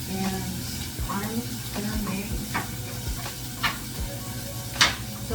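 Tofu sizzling steadily in a hot pan at home, with occasional stirring clinks and scrapes over a constant frying hiss.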